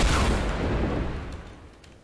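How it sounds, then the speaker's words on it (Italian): A single heavy gunshot from the video game Fortnite, a loud blast at the start followed by a long booming tail that fades over two seconds. "Gli sparo perfetto"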